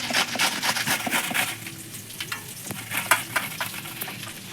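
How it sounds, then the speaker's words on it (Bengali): Onions frying in a pan for a fish curry: a steady sizzle with scraping stir strokes and occasional clinks of a spoon, close and moderately loud, with no talking. "পেঁয়াজ দিবে, পেঁয়াজ ভাজতেছে।"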